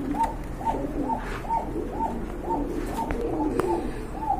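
Several pigeons coo in a steady, repeating rhythm at a busy pigeon market selling local and foreign breeds, the calls close and continuous over a low crowd murmur.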